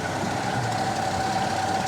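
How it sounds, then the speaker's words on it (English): A 1966 Chevy C10 pickup's original 250 cubic inch six-cylinder engine runs at a steady idle, a continuous close mechanical drone with an even hum and no voices. "It's powered by its original power plant, which is a 250 cubic inch 6-cylinder engine."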